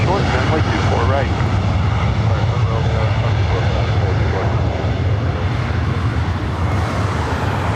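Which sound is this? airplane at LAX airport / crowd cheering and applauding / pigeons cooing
airplane at LAX airport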